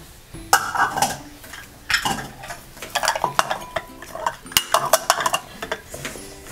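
Cookie dough for crunchy chocolate chip cookies being stirred in a bowl after milk is added, with a spoon scraping and clinking against the bowl in a steady, busy rhythm, close and fairly loud.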